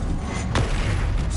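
Confringo fire blast spell cast in Hogwarts Legacy, a single sharp burst standing out briefly against continuous game background noise.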